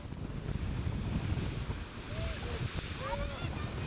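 Steady wind gusting across an open beach, with broadband rushing noise and surf, buffeting close to the microphone, with a few faint squeaks over it.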